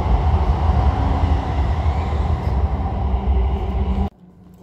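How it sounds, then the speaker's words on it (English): A London train running, a loud continuous rumble and rattle of rolling wheels that holds steady for about four seconds and then cuts off abruptly to quiet. "Train."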